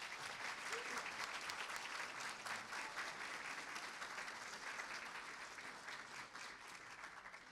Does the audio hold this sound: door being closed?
no